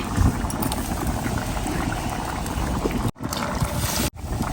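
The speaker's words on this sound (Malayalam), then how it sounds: "ഇനി നല്ലോണം തിളക്കണം കേട്ടോ" Jackfruit sambar boils in a pot, giving a continuous close bubbling and churning that is broken by two brief cuts, with no voices.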